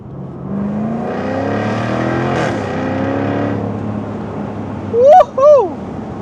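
A Jaguar F-Type R75 convertible's engine revs and accelerates continuously on a countryside drive, a loud, rising drone. Two short whoops of a voice rise above it near the end.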